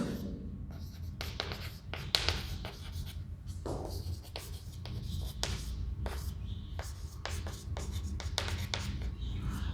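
A marker or chalk scratches rapid short strokes on a board while writing out a list of ordered pairs, in bursts with brief pauses, moderately close, with faint background murmur.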